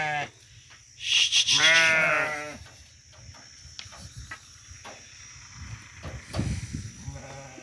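Goats bleating in a village pen at dusk, one loud, wavering close bleat followed by fainter calls, with insects chirping steadily in the background.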